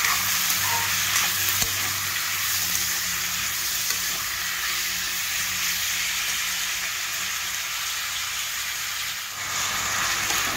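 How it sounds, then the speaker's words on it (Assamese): Cashews, onion and tomato fry steadily in a pan, giving a loud, continuous sizzle that holds evenly throughout with no talking. "এতিয়া পনীৰ বনাবৰ কাৰণে মই কাজুটো ফ্ৰাই কৰি ল'ম আৰু পিঁয়াজ আৰু বিলাহী।"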